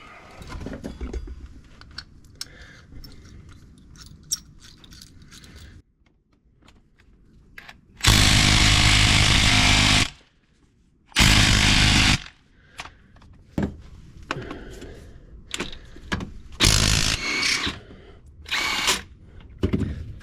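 An impact wrench fitted with an extension works on the transmission of a 2017 Polaris General 1000. It fires in two loud, sustained bursts, broken up by clanks, clicks and shorter tool whirs, with no one talking.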